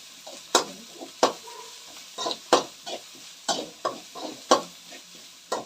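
Anegone greens frying in oil in a pan, with a steady sizzle broken by a regular series of sharp scraping stirs, close and clear with no talking.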